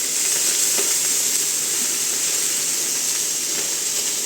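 Moringa leaves frying in a hot pan give off a loud, steady sizzle with dense crackling pops, heard close up and continuous without any voices.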